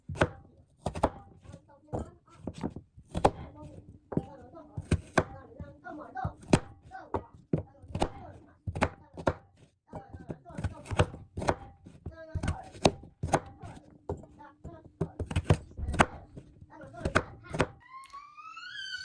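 A knife chops through washed sweet potato on a cutting board in a steady series of sharp, close thunks, with a voice talking between the cuts.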